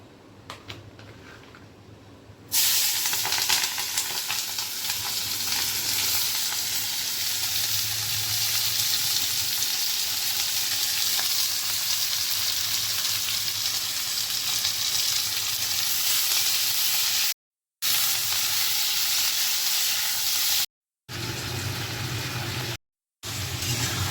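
Onion, capsicum and tomato sizzle steadily in a hot pan with arrowroot and egg, a loud continuous close frying hiss with brief dropouts near the end and no talk.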